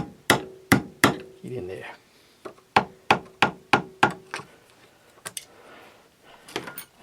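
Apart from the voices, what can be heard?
hammering on a rusty Tecumseh starter bendix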